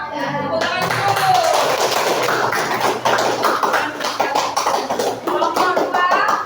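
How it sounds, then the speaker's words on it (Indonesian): Children in a classroom clapping together, a dense, close burst of many small hands patting fast and unevenly, holding steady for several seconds with a few scattered voices mixed in. "Tepuk tangan dulu."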